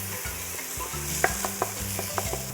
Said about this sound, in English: let our curry powder cook a little bit first before